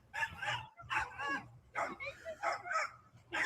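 Dog yapping in several quick excited barks as a beaver attacks people and animals nearby, with a voice speaking in between, heard through a video playing.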